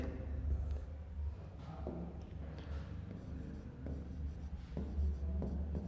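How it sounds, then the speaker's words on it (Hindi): Chalk or marker writes an example on a classroom board during a Hindi grammar lesson, with short scratchy strokes and taps over a low room hum, no voice heard. "देखिए उदाहरण लिखता हूं आपके सामने"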